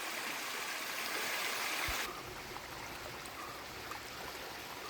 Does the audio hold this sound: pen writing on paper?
no